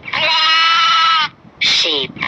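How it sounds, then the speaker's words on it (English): A sheep's bleat, one long wavering call followed by a shorter second bleat and the start of a third, loud and close, with no other sounds. "Sheep."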